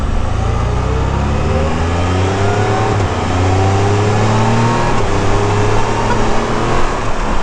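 A demo motorcycle at the Sturgis Rally accelerating hard, its engine note climbing steadily through rising revs, loud and close throughout without a break.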